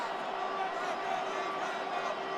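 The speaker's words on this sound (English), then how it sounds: "The crowd cranking it up another notch before 3rd and long" A stadium crowd in Madden NFL 26 roars steadily before a third-and-long play, a continuous dense wash of cheering and noise with no break, moderately loud and heard from a distance.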